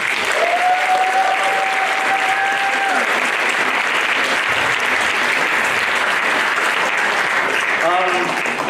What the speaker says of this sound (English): Another round of applause for Khmer Arts.